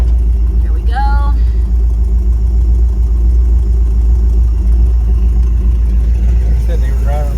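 The engine of a 1954 Cadillac with an aftermarket one-wire alternator idles close by in a loud, steady low rumble that never changes, while a voice talks over it.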